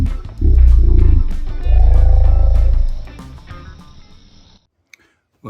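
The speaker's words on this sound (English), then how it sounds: "changed my voice to sound like Chewbacca" A human voice slowed down to a deep, growling Chewbacca-like roar, two long loud rumbling bursts followed by fading low murmurs and a short click near the end.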